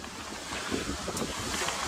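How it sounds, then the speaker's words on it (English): Water surges and washes over the deck of the racing yacht Comanche during an offshore race, a continuous broad rushing wash mixed with wind noise on the microphone. "A lot of water over the deck."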